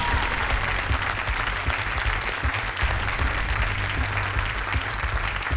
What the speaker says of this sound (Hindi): तालियों के साथ मैं चाहता हूं